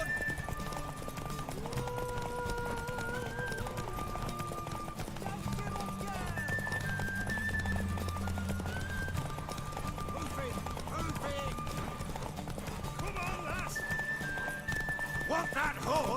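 Hooves clip-clop at a steady gallop with occasional whinnies from a horse in The Witcher 3, running under constant background music and spoken dialogue.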